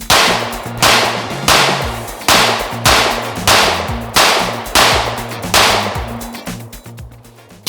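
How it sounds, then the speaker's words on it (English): A Tisas PX-9 Duty Comp pistol fires PMC ammunition at an outdoor range, with about eight loud, sharp shots in steady succession, each followed by a short echo. "just 15 rounds of each, just to keep getting rounds through the gun and also try it with a few different types of ammo"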